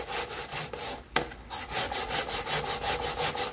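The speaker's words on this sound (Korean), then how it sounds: "그래서 강판에다 다시 갈아서 옹심이를 한번 만들어 볼게요" Potatoes grated by hand on a grater for making potato dumplings, a steady rhythmic rasping scrape repeating close up, with one sharp knock partway through and no talking.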